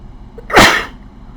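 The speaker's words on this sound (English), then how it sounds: "oh, I'm going to sneeze." A single loud, close sneeze bursts out once in a quiet room, sharp and breathy, then fades quickly to near silence.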